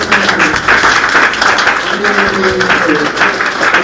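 A church congregation applauds during a Spanish-language worship service, with loud clapping mixed with voices and cheering throughout.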